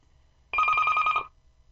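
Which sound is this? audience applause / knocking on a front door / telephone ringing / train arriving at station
telephone ringing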